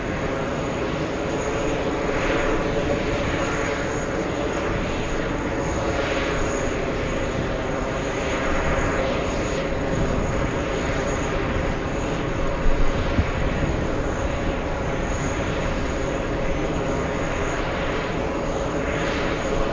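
A steady, loud roar of airliner jet engines at JFK Airport holds for about twenty seconds, a broad rumbling drone with a faint whine on top and no talking.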